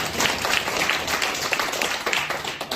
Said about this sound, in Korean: 우리 하나님께 감사 박수 드리겠습니다.